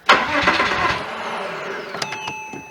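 Starter cranking on a 2006 Porsche Boxster 987 with its engine refusing to catch, a churning whirr lasting nearly three seconds up close, with dash warning chimes ringing near the end.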